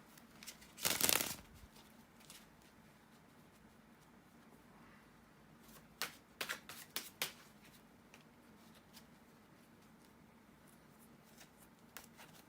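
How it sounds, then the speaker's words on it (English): A deck of tarot cards is shuffled by hand, with a loud riffle burst near the start and then several softer, quick shuffling flurries spread across a quiet room. "bear with me a second to shuffle the tarot cards"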